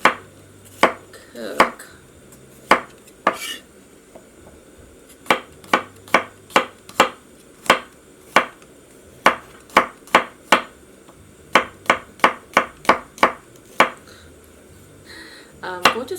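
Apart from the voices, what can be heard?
slicing vegetables with a knife for kimchi fried rice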